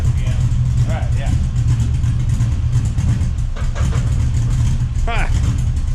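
A car's LS V8 engine with a swapped cam idles and revs loudly up close, a dense, steady rumble with a lumpy, untuned character while people talk over it.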